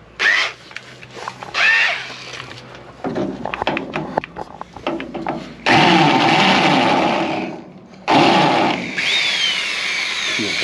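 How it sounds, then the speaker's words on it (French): A power drill bores through scrap metal on a custom fridge box for a 4x4, in loud sustained bursts of whining and grinding that start and stop several times, with the longest runs in the second half. "Ah, on va percer de la ferraille comme ça."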